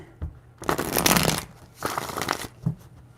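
Tarot cards shuffled in three bursts: a brief riffle, then a long dense ripple of cards, then another steady shuffle with a short tap at the end, close and fairly quiet with no talking.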